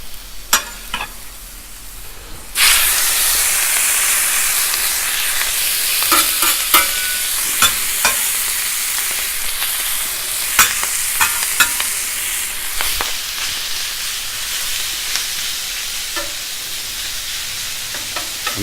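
Prime rib meat sizzling in hot oil on a cooking surface, a steady loud hiss that jumps up as the meat goes down, with scattered clicks and scrapes of handling throughout and no talking.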